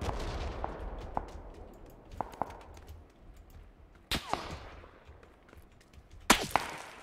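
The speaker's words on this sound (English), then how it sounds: "Okay, stop shooting at me." Gunfire in the battle royale game PUBG, scattered single shots at varying distances with sharp cracks and echoing tails, two louder reports standing out, over quiet ambient game noise.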